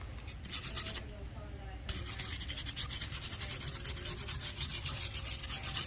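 Steady rhythmic scrubbing and scraping of engine parts with Scotch-Brite abrasive pads during a 6.0 Powerstroke swap into an OBS Ford F-150, a continuous close rubbing rasp with repeated strokes and no talk.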